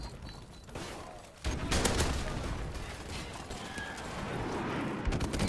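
Kamchatka-12 automatic shotgun in Modern Warfare Remastered fires rapidly, a loud, dense, near-continuous stream of blasts that starts abruptly after a brief quieter lead-in and keeps going to the end.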